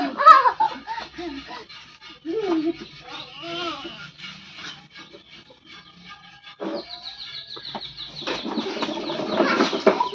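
A hen walking with her chicks gives soft clucks and chick peeps, with a brief wing flutter, mixed with nearby voices talking over much of it.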